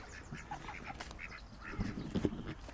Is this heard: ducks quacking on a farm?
yes